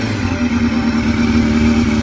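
A Kawasaki Ninja ZX250R motorcycle engine revs loudly and close, a sustained high-pitched roar holding steady for about two seconds before cutting off.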